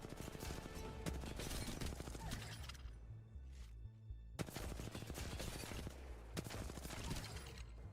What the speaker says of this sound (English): That's the firing range R301 warm up